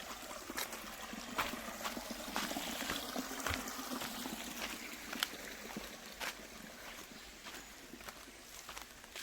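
Faint trickling water runs steadily in the background in the Seychelles, with soft scattered knocks and taps breaking through the quiet flow.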